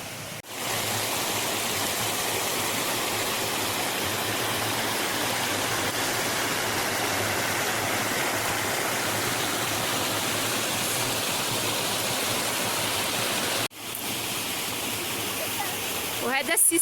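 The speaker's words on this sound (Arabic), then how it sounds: "هانتوما شوفوا الشلال" A waterfall in the countryside roars in a loud, steady broadband rush that continues unbroken, with a brief dropout near the end.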